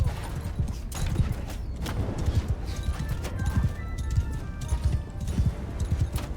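Hooves clop in a steady, unhurried rhythm as a horse is ridden slowly during a siege battle in the video game Mount & Blade 2: Bannerlord, close and fairly loud, with a faint whinny.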